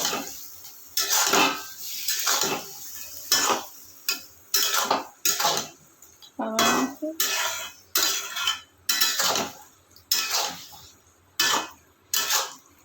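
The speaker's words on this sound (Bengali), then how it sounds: "এবার আমি দিচ্ছি যে টমেটো সসগুলো একসঙ্গে মিশিয়ে নিয়েছিলাম সস আর চিলি সস আর টমেটো সস কেটে দিয়ে দিচ্ছি মিশিয়ে দিচ্ছি" Tomato sauce and chili sauce being mixed in a pan, with a utensil repeatedly scraping and clinking against the metal in an uneven rhythm of sharp, close strokes.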